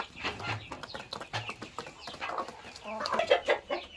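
Chickens cluck and chatter busily while being fed chick feed on a farm, their short, overlapping calls rising in a quick, close, uneven rhythm.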